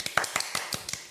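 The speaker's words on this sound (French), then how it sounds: "Allez, on t'applaudit." A handful of sparse, separate hand claps, roughly seven sharp taps spaced irregularly across about a second, close and dry with no crowd behind them.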